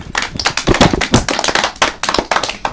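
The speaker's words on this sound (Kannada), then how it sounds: "ವೆರಿ ಗುಡ್ ಚಪ್ಪಾಳೆ" Children clap together in a burst of uneven, overlapping hand claps, loud and close, with sharp peaks spread through the whole stretch.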